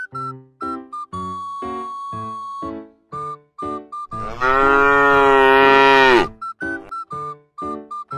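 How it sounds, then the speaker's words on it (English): A cow gives one long, loud, drawn-out moo in the middle, framed by a bouncy synthesized melody of short repeated notes before and after. "Friends, cow is a farm animal."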